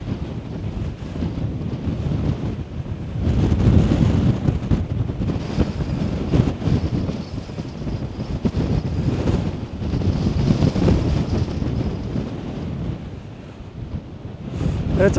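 Strong, gusty wind on a sea dike at Sint-Annaland in the Netherlands, buffeting the microphone with a loud continuous rush that swells and eases over the surf, with no voices heard.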